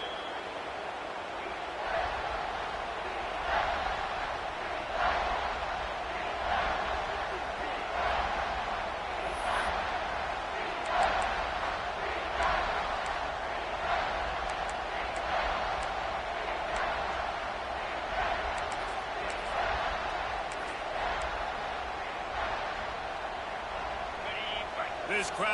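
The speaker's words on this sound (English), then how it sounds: "This crowd rising up, sensing that its defense needs some help." Crowd noise in a college football video game swells into a steady roar across the stadium, with rhythmic pulses and claps, while a play-by-play commentator talks over it throughout.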